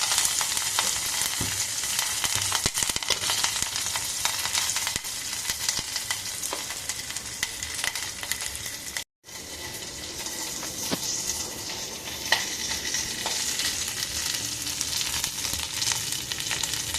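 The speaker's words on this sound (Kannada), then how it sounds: "ನಂತರ ತೊಳೆದುಕೊಂಡಂಥ ಹುಣಸೆಹಣ್ಣು ಇವೆಲ್ಲ ಹಾಕಿ ಎಣ್ಣೆಯಲ್ಲಿ 1 ನಿಮಿಷ ಫ್ರೈ ಮಾಡಿಕೊಳ್ಳಿ." Garlic, chillies and curry leaves fry in hot oil in a pan for a peanut chutney. The sizzling is steady and close, with occasional stirring clinks and a brief dropout midway.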